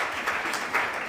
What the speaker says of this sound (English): Ladies and gentlemen, a round of applause for Honorable Kennedy Ohene Ejapon.